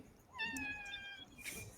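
A pet cat gives a single drawn-out meow close by, with a short second cry near the end, over quiet room noise.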